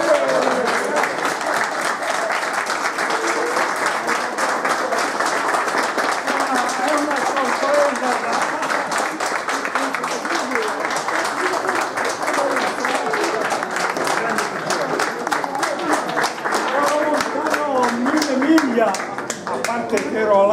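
Guests at a restaurant award event clap in sustained, dense applause that stays steady throughout, loud and close, with voices murmuring beneath the clapping.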